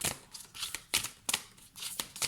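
A deck of oracle cards is shuffled by hand for a reading, giving a series of close, papery riffles and slaps in quick bursts with short pauses between them, and no voice.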